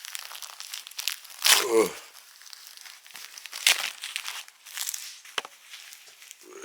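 Plastic packaging crinkles and tears as it is pulled off the foot of a full silicone doll, in close, irregular rustling bursts with a brief spoken exclamation.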